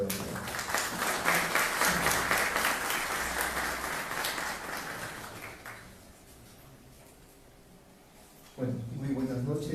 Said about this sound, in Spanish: lo recibimos con un fuerte voto de aplauso